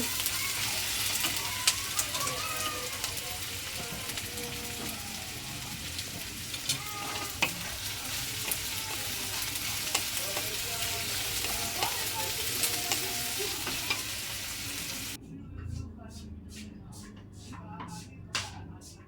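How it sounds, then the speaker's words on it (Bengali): Onions and chillies fry in hot oil with ginger-garlic paste, giving a steady, close sizzle with occasional stirring scrapes; near the end the frying drops back and sharp, regular clicks cut through. "পেঁয়াজ লঙ্কাগুলো তেলের মধ্যে অ্যাড করে নেব নেওয়ার পরে নেড়ে চেড়ে হালকা কালার চলে আসবে"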